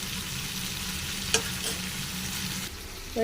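Turmeric, Kashmiri chili, coriander and cumin powders fry with tomato in a pan while being stirred, a steady close sizzle with a couple of brief utensil scrapes and clinks.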